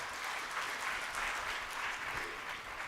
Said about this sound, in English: Can we give a round of applause to our team here?